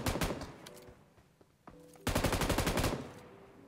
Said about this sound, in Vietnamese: Hai con boss nó bắn nhau.